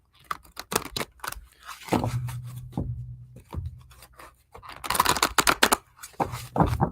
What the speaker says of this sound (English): Just going to shuffle this a little bit.